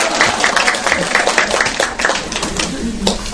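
Parents in a school lecture audience clap loudly together in a brisk, dense patter that holds steady for a few seconds.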